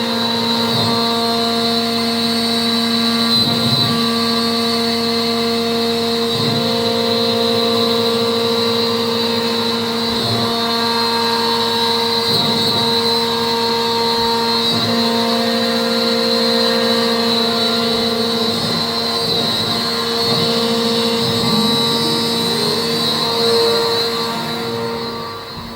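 A CNC machine cutting bookshelf parts, its spindle and motors producing a loud, steady mechanical whine with strong sustained tones and periodic bursts as the cutter moves, running alone without talk.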